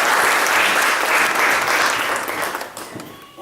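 A convention crowd applauds a pastor, broad and continuous clapping that holds strong, then thins and fades toward the end.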